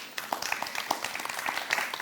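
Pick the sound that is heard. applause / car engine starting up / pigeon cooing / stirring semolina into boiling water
applause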